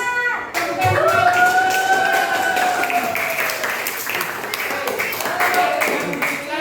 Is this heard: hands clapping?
yes